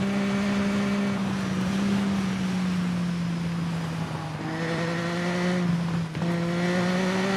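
A motorcycle engine in the TT Isle of Man 2 racing game holds a steady, droning tone that shifts pitch slightly as the bike runs, with a brief dip near the end and no talking over it.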